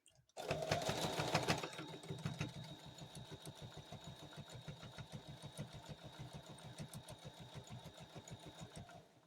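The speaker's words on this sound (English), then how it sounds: "Put that back under the sewing machine. We're going to back stitch again." A sewing machine runs in a steady, rapid stitching rhythm while free motion quilting a table runner, a brief louder burst at the start and then an even mechanical clatter throughout.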